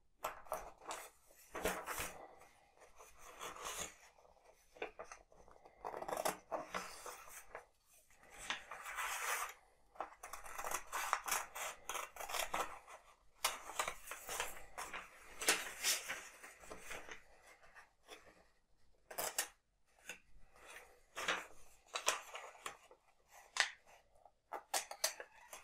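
Scissors cutting through paper, a long run of quiet, irregular snipping and crisp rustling bursts with brief pauses between cuts, close and soft throughout.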